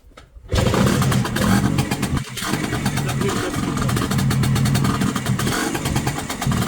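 A Minsk 125 motorcycle engine catches after a brief quiet moment and settles into a loud, close, rapid two-stroke idle that runs steadily to the end.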